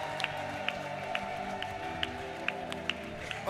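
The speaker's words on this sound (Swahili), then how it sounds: "Nasema mpigie Yesu makofi" At an all-night church prayer vigil in Iyunga, the congregation claps for Jesus in a steady, moderately spaced rhythm, distinct claps rising above a background hum of keyboard drone and crowd murmur in a reverberant room.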